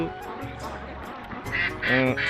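Ducks on a farm at Chalan Beel near Tarash quack repeatedly in a close, busy chorus, growing louder and more insistent toward the end, with a voice faintly underneath.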